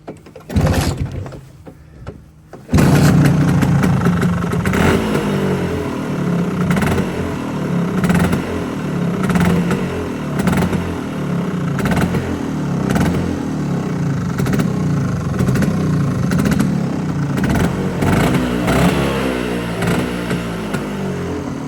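A two-stroke scooter with auto-lube oil injection and a choke fitted sits quietly through a few light clatters, then its engine fires and runs loud and close, revving up and down in steady repeated bursts.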